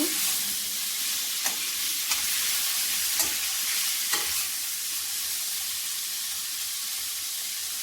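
Chickpeas and spices get stirred in a pan, a soft, even sizzle with a few distinct spoon scrapes and clinks spaced across it. The sound stays fairly quiet and close throughout, with no speech.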